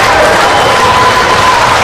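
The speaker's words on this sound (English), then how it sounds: "Enthusiastic crowd." Wrestling crowd in an arena cheering and applauding, a loud, dense wash of clapping and voices holding steady throughout, with a faint whistle-like tone riding over the roar.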